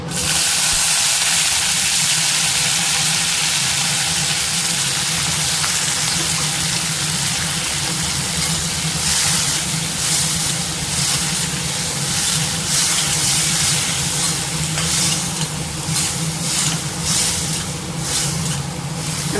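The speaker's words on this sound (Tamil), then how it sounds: "எண்ணெய் காஞ்சிருச்சு நம்ம க்ளீன் பண்ணி வச்சுருக்க சுண்டைக்காயை இது கூட சேர்த்து" Turkey berries frying in hot oil in a home kitchen, with a steady, loud hiss and sizzle that runs the whole time with no talking.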